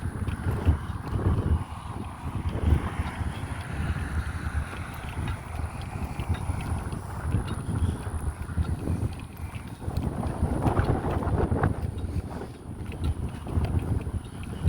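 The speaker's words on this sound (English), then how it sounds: "But with this wind, it don't make it hot at all" Wind blows steadily outdoors on a warm day during a ruck walk, a constant low buffeting rumble across the microphone with gusty swells and no talking.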